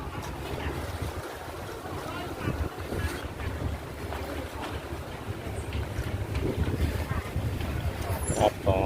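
Steady roar of a catamaran ferry crossing open sea to Koh Kood, with engine rumble, wind buffeting and wave wash running continuously, and someone talking over it.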